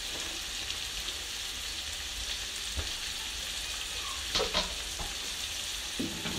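Chopped coriander frying and being stirred in a pot for chickpea pulao, with a continuous crackling sizzle punctuated by spoon scrapes and knocks against the metal.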